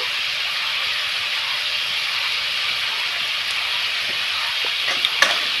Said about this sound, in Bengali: এই লবণটা দিয়ে আবার একটু নাড়াচাড়া করে নেব